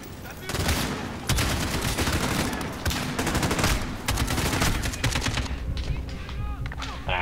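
Call of Duty Modern Warfare gunfire: dense, loud, sustained rifle and machine-gun bursts rattle almost nonstop, with sharp reports overlapping and a brief thinning near the end.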